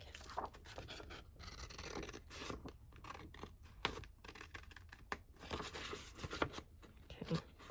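Scissors cut through scrapbooking paper for a fold-out booklet, with a quiet, close run of irregular snips and paper rustles.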